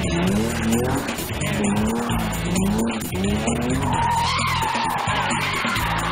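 Rear-wheel-drive tuned cars, from powerful Japanese models to older BMWs, race through a bend at the Chimay circuit, with loud repeated tire squeals and revving engines close by, shifting as cars pass.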